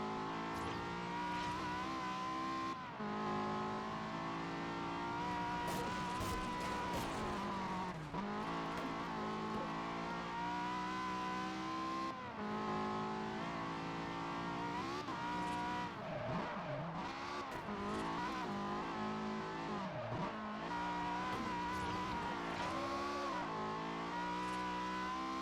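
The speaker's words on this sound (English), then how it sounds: "So I forgot how loud the cars get." Race cars in a Forza Horizon speedrun roar continuously at high revs, their engine pitch sweeping up and down through gear changes, with tire squeals and skids cutting in; loud, dense and unbroken, with no voices.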